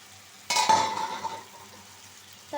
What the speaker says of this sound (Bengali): এখন আমরা দুই তিন মিনিট কষায় নিই